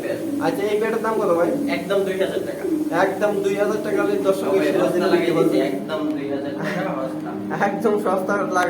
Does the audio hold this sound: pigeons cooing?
yes